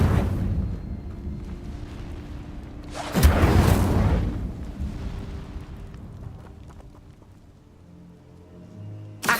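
An Incendio fire spell in the Hogwarts Legacy video game: a loud whooshing blast that erupts briefly, then a softer rumbling tail that slowly fades, over low ambient background.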